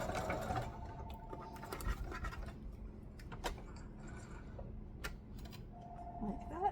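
A sewing machine runs in short bursts, a quick run of stitches and then a back stitch, with a soft mechanical whir and ticking amid faint handling noises, close and quiet.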